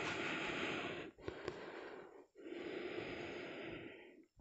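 Long, close, audible breaths during a yoga class, a sustained airy exhale followed by a short pause and another extended breath, soft and breathy with no talking.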